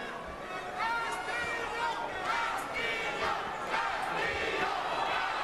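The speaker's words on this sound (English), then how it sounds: "Fans chanting for Castillo now." Boxing fans at a fight chanting for Castillo, a dense, loud crowd roar with rhythmic shouted swells, with rival fans booing mixed in and continuous over the whole stretch.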